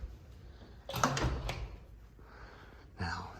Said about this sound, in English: Let's try this door. All right, that door was unlocked.